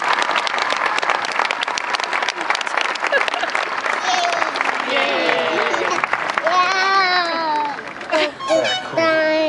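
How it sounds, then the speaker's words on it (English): A high school graduation crowd applauds the speaker's parents, with loud, sustained clapping mixed with cheers and whoops, then voices and laughter rising over the clapping as it tapers off. "could we just have a round of applause for my parents?"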